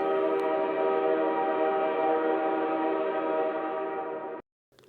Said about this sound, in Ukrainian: Нас уже чекає наш потяг.